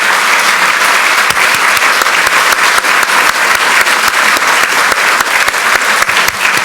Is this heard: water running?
no